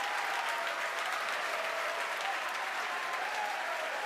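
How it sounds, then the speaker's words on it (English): A large crowd cheers and applauds during a SpaceX Falcon Heavy rocket launch. The roar of clapping and cheering is dense and continuous, with no pauses across the whole stretch. "if you can hear me over the cheering"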